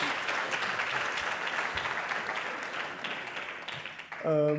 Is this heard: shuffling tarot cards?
no